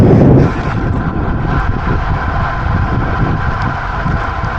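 Strong wind buffets the microphone in a constant low roar while riding a bicycle, with no voices heard.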